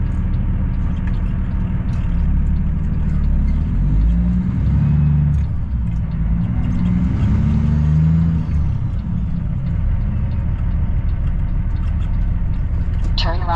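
Cars rumble past on the Trans-Canada highway, a steady low engine roar with swelling pass-bys, heard from a stopped truck cab, loud and continuous for over ten seconds.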